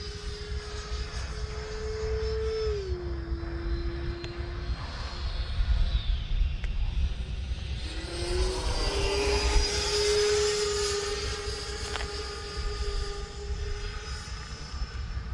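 Freewing F/A-18C Blue Angels 90mm electric ducted-fan RC jet flying overhead, a whining turbine-like roar that swells as it passes and then recedes, moderately loud with no talk.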